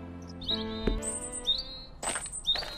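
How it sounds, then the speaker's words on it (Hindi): A bird chirps close by, a short series of bright whistled tweets and trills with brief gaps between calls. "बचा हुआ फल बाजार ले जाते हुए सड़क के बीच एलिडा को एक प्यासी चिड़िया की आवाज सुनाई दी।"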